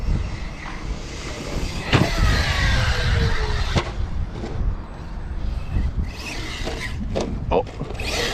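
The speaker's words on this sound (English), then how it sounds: "This is probably one of the best RC cars I have." An ARRMA Notorious V6 RC car being bashed outdoors, flipping and landing: motor whine rises and falls amid crashing thumps and rough broadband noise, with faint voices in the background.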